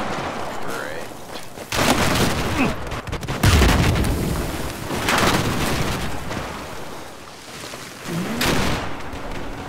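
Heavy gunship cannon fire in the video game Battlefield 4 arrives as loud booming bursts and blasts spread across the stretch, with in-game rumble and a player's voice between them.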